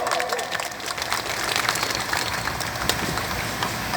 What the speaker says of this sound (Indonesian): Gitu, tepuk tangan dulu.